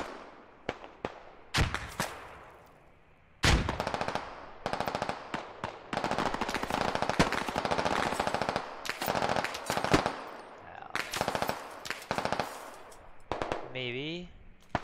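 Gunfire in the military shooter game Squad: several single shots early on, then long sustained automatic bursts broken by short gaps, loud and sharp, ending with a brief rising tonal sound.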